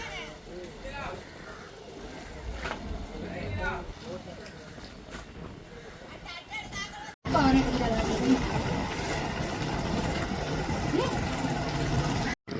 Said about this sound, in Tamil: இது வந்து மீன் எடுக்க போகிற படகு